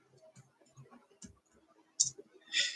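Keys clicking on a computer keyboard in short irregular bursts of light taps, close and fairly quiet, with a couple of louder strokes near the end.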